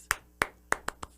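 Five quick hand claps in an uneven rhythm, close and crisp with short gaps between them, imitating the New Day wrestling team's clap with no voices over them.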